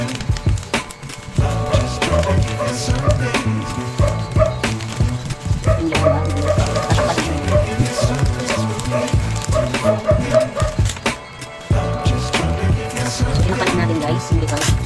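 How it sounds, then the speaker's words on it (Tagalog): A dog barks repeatedly indoors while balloon bouquet crafting goes on, the yaps scattered across the clip under near-constant talking and background music. "Yung aso, maingay."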